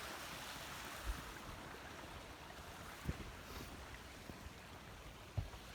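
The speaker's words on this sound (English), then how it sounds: "I just have to cross this river right here in the dark" A river rushes in the dark beneath a log crossing, a steady broad wash of moving water with a few dull knocks and thumps close by.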